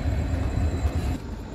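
The Uttarbanga Express rumbles into Malda Town station at night, a heavy low rolling drone from the carriage with steady wheel noise and no voices, heard from inside the train.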